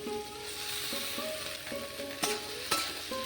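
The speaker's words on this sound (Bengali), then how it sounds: "ভালো করে গরম হয়ে গেছে। এইবার সবজিগুলো দিয়ে দিচ্ছি।" Flat beans, potato, tomato and onion hit hot oil tempered with nigella seeds, giving a steady close sizzle broken by a few sharper crackles and clatters of the pan, with no talking.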